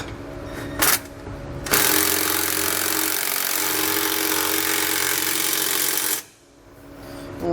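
A power tool runs steadily for several seconds while tightening bolts on SumoSprings helper springs fitted to a 2020 Ford F-53 chassis, preceded by a brief burst and ending abruptly, fairly loud and close with no talk.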